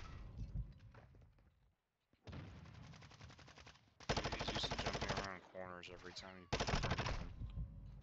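Rapid automatic gunfire in the video game Modern Warfare 2, fired in close, loud bursts separated by short gaps, with a brief silence early on and some clattering mixed in.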